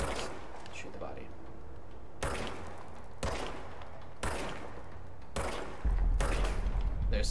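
Gunfire from a weapon in the action video game Control: several loud bursts of shots at uneven intervals over a steady background of game sound, ending with a heavier sustained blast.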